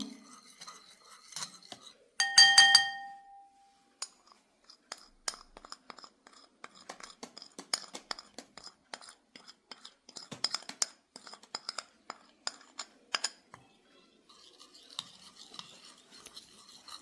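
A spoon stirring xanthan gum into rosemary water in a glass, heard as a dense run of light clinks and scraping ticks against the glass, one brief louder ring near the start, close and fairly soft, with no voices.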